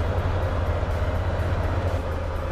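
Steady low rumble of a train rolling along its tracks in the railway simulation game Train Fever, continuous and fairly loud with no talk over it.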